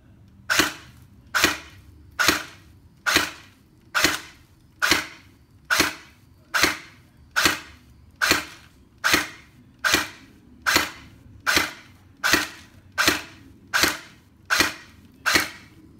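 An APS CYMA SVU airsoft rifle fires 0.2 gram BBs through a chronograph: sixteen sharp, evenly spaced cracks about one second apart, loud and close with no talking.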